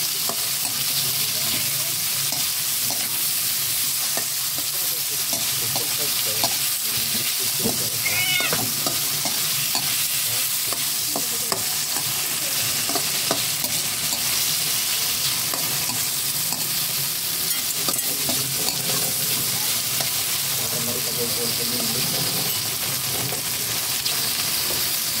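Mussels sauté in a pan with tomato, a loud continuous sizzle punctuated by scraping stirs throughout, no talking.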